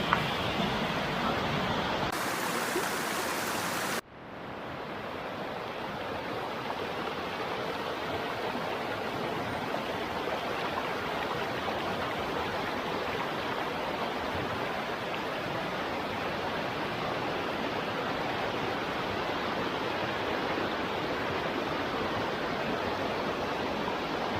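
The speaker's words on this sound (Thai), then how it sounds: "มีลำธารที่สวยงามตรงนี้นะครับ" Steady broadband rush of a stream flowing beside a tent pitch at a campsite near Khlong Lan waterfall in Kamphaeng Phet, continuous and fairly loud, with a brief harsh burst of noise near the start.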